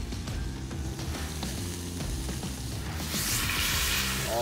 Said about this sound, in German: Jetzt das Fleisch ohne Fett in die Pfanne geben.